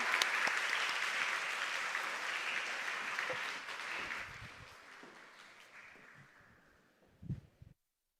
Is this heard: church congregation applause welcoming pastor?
yes